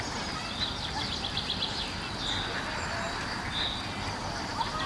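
Ducks quacking outdoors among other birds, with scattered short calls and chirps over a steady low background rumble, moderately distant.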